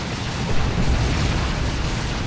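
Grenade barrage detonating in Warhammer 40,000: Dawn of War 2, a dense, continuous roar of overlapping explosions with no gaps, loud and sustained throughout.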